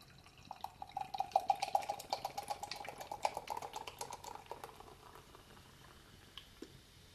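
A can of Lucy lager from Omnipollo and O/O Brewing is opened and poured into a glass, giving a steady fizzing, crackling foam with a faint ringing pour tone that fades into scattered bubbling pops, close by and with no speech.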